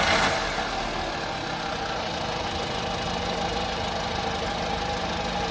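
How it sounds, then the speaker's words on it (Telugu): A 2016 Volkswagen Vento Comfortline petrol car engine idling close by, with a steady, even mechanical hum and light ticking, continuous and alone without talk. "సో ఒకసారి ఇంజిన్ సౌండ్ అయితే చూడండి ఇప్పుడు ఒకసారి"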